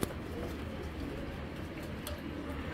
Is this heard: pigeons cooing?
yes